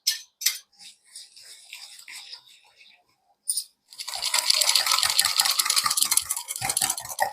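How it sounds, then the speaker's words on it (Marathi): Steady metal-on-metal scraping and clinking as a spoon stirs saffron milk and sugar in a pot, loud and close, with rhythmic strokes after a few sparse taps at the start. "तर हे पण यामध्ये घालून घेऊ आणि आता याला छान मिक्स करू."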